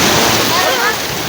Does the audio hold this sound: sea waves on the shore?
yes